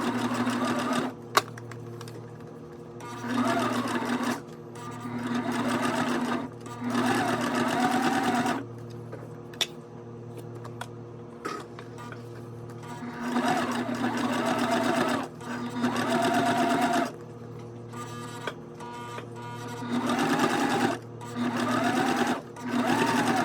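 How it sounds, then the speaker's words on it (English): A sewing machine top stitches a fabric bag in repeated runs of several seconds, its motor humming steadily and pausing briefly between bursts. "And now we're going to top stitch."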